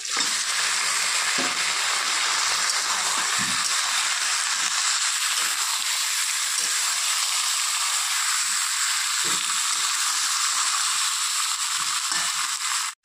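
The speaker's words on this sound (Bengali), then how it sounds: "তো পেঁয়াজটা লাল লাল হয়ে এসছে, এখন এর মধ্যে ঢেলে দিব চিকেনটা" Chicken hits browned onions in a hot pan for a chicken masala curry, raising a loud, dense, continuous sizzle with occasional stirring scrapes and clicks underneath.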